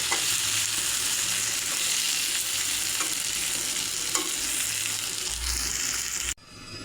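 Potato pieces fry in hot oil for a duck curry, a loud steady sizzle close by with light stirring clinks, ending abruptly near the close.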